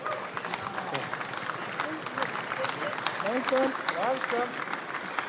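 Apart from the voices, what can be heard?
round of applause for rescue team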